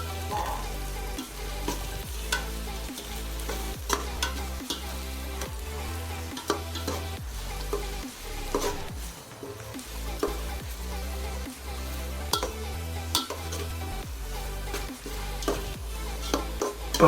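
Biryani masala with herbs stirred and frying in a pot, a steady sizzle broken by repeated scraping strokes of a spoon against the metal throughout, close and fairly loud.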